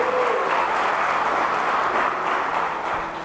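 A church congregation applauds during a Portuguese-language sermon, with a steady, dense wash of clapping across a large room that holds level and fades slightly at the end.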